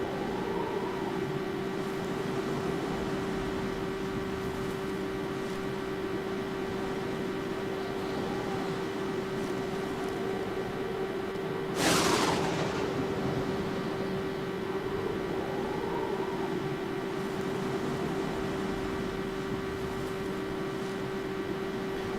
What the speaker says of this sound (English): Apologies for the engine noise in the background